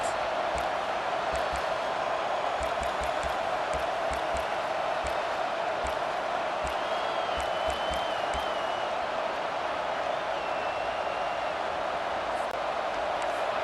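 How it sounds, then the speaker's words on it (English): Simulated stadium crowd noise from College Football 25 roars as a steady, dense wash of cheering throughout, with faint thumps and a few whistle-like tones over the top. "This crowd bringing the energy and noise early."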